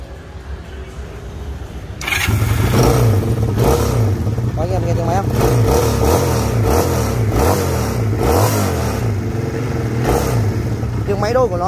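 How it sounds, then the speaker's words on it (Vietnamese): A used motorcycle's twin engine starts and runs at a steady idle with occasional revs, close and loud, while someone talks over it. "Bây giờ mình sẽ thử test máy cho anh em mình tham khảo tiếng máy nhé."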